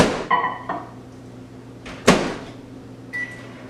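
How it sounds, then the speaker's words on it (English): A microwave oven heating a mug cake is heard through a few sharp clunks and taps of its door and handling, a short electronic beep near the end, and a low hum between them, close and with no talking. "I decided to put it back in the microwave for another 30 seconds"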